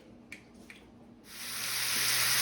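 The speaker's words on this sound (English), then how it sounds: "Listen to those bad boys sizzle" A couple of faint clicks, then a loud sizzle bursts up and keeps hissing steadily as meat fries in a hot pan.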